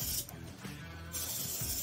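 A short hiss of lubricant sprayed from a can set to a medium nozzle onto the inside of a garage door roller track, two brief bursts close by, with no talking.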